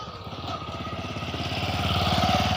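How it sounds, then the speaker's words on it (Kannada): A motorcycle engine approaches along a road, its steady mid-pitched putter growing louder and nearer over a couple of seconds. "ಬೈಕ್ ಬರ್ತೈತೆ, ಬಾ ಸೈಡಿಗೆ."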